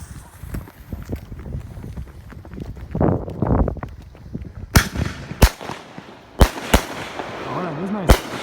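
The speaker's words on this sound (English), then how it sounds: "Keystone Fireworks. 200 gram cake. High def." A Keystone Fireworks 200 gram cake goes off with several sharp, loud bursts and crackles in the later half, following quieter rustling and faint talk at the start.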